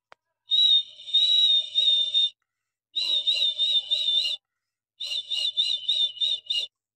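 Turbo whistle on a 2020 GAC GS5, three sustained high whines of about 1.5 seconds each with a wavering pitch and short gaps between them, close and fairly clear, with no talking.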